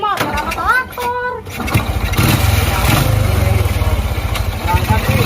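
A motorcycle engine starts and then idles with a steady, rough rumble close by. Voices talk over it at the start, and engine noise fills the rest.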